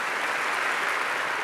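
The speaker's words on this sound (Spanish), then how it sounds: "Ahora dese un aplauso a usted por estar tan temprano aquí buscando de Dios." Brief burst of audience applause at an early-morning church service, a dense, even wash of clapping lasting under two seconds with no speech over it.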